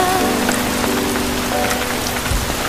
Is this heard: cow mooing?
no